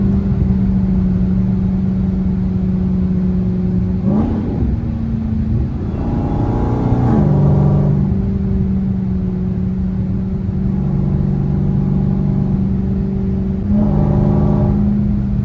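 A Dodge Hellcat's engine drones steadily inside the car while driving, with several distinct revs swelling up and dropping back over a constant low rumble.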